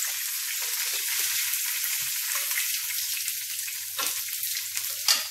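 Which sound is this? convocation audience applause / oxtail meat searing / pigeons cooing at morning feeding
oxtail meat searing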